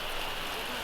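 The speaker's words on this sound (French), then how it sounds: "Et le retour de la pluie." Rain falls steadily after a hurricane, a dense, even hiss of drops on surfaces that fills the whole brief moment.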